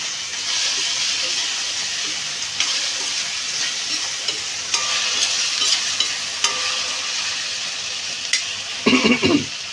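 Onions and tomatoes frying in oil on a stove for mutton keema, a steady close sizzle and hiss with occasional stirring clatter and a few louder scrapes near the end.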